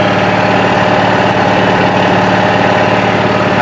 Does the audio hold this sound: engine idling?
yes